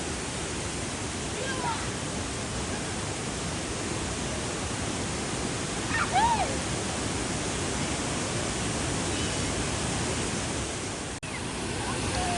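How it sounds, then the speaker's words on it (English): Waterfall near Naone village, a constant broad rushing roar of falling water that stays steady and close throughout, with a faint bird call rising over it. "Oh, look at the waterfalls up there too."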